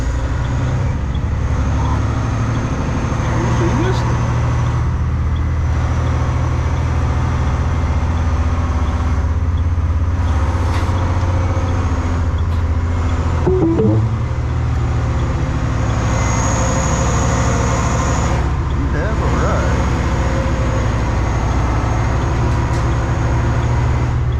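A truck backs up a trailer, its engine a steady, loud low drone that runs unbroken throughout, with faint mechanical noises over it and no speech.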